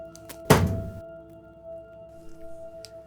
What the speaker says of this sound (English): it sounds like something dropping, really